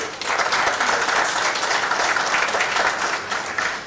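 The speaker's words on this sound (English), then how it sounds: "So can we have the loudest round of applause to begin with?" Audience at a secondaries investment conference breaks into sustained applause, a loud, full sheet of clapping from a large crowd that stays steady and close throughout.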